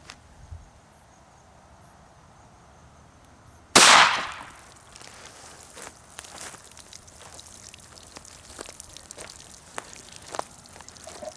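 A .380 pistol fires a single Buffalo Bore 90 grain +P round into meat, one sharp, loud crack with a brief ringing tail, followed by quiet outdoor ambience with faint insects.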